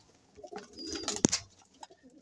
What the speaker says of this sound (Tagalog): Ito ang ibon natin na si Kawing.